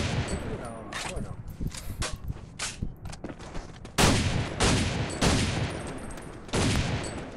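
Video game gunfire, rapid bursts of shots and automatic fire, close and loud, coming in uneven clusters with heavier volleys near the end and a voice talking underneath.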